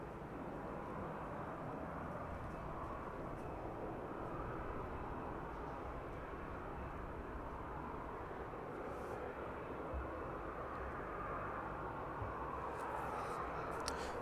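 A Jet2 airliner in Air Explorer livery taxis onto the apron at East Midlands Airport, giving a steady, distant engine roar that holds evenly throughout.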